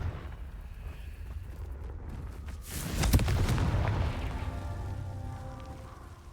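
A Confringo fire spell blasts in Hogwarts Legacy, one loud booming burst at the middle followed by a rumbling tail, set against a steady windy background with no one talking.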